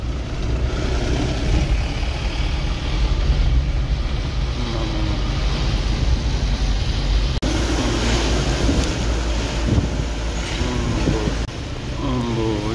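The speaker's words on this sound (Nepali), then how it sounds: "क्या भइरहेछ, बौलिरहेछ खोला त।" A river roars past large boulders in the Nepali hills near Majhitar, a loud, steady broadband rush that stays constant throughout.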